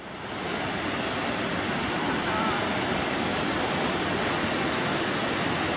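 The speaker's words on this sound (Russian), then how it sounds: "Сейчас мы подходим к тройному водопаду." A triple waterfall on the Zhane river roars as a steady, broad rush of falling water, filling the scene at close range with no distinct breaks.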